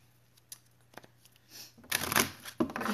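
Cards are riffled and shuffled against a table, a few faint taps and then a louder burst of snapping, fluttering card sounds up close.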